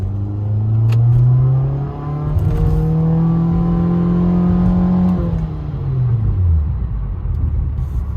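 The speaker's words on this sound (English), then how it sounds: "we're going to go for a little drive right now to burn some gas." A Nissan Altima engine revs up, holds a strong steady drone, then winds down and settles into a low idle-like rumble, close and loud.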